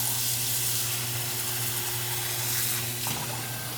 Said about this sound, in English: I add a pretty good amount of water.